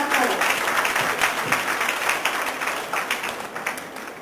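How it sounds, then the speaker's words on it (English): Conference audience clapping, a lively burst of applause close by that gradually thins and softens toward the end. "That a huge round of applause for Professor Vinay Sharma sir."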